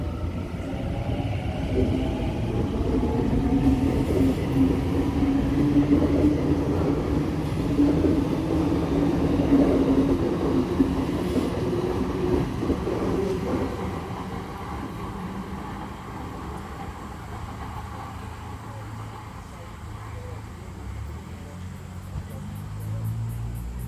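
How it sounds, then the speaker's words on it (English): A passenger train rumbles steadily at a station platform, a low continuous roar with rattling that slowly fades as it departs. "A69 about to depart platform 1 for essential service."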